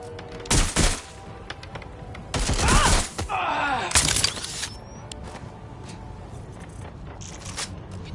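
Gunfire erupts in Watch Dogs: Legion, with a short burst followed by a longer rattling volley and a few more shots, loud and close, then fading into quieter background noise.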